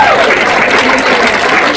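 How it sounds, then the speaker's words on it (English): An audience at a youth leadership summit applauds, a dense, loud, steady round of clapping from a crowd, close and continuous. "Can you give them a round of applause?"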